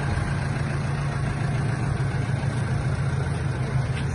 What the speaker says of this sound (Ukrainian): Трактор McCormick 110 кінських сил.